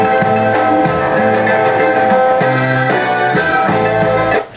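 A looping beat plays back in music software: a steady repeating pattern of bass notes and bright synth layers, loud and dense, running for several bars before cutting off at the end.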